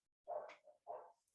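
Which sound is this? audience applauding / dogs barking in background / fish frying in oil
dogs barking in background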